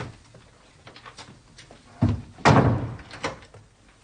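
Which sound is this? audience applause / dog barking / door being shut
door being shut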